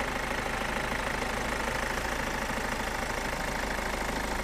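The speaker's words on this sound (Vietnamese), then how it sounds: "Đây, đây là động cơ dầu của Hyundai này." A Hyundai Santa Fe with a 2.0-litre diesel engine idles steadily with a continuous, even rumble and clatter heard close up, with no voices over it.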